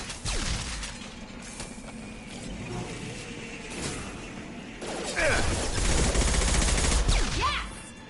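Gunfire from combat in the video game Mass Effect 2, including shotgun blasts: dense bursts and shots, heaviest at the start and in a loud stretch near the end, with faint voices mixed in.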